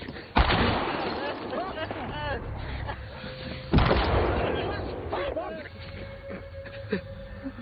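Two loud gunshot blasts from a film ring out a few seconds apart, shattering car glass, amid tense, busy background noise, with voices speaking throughout.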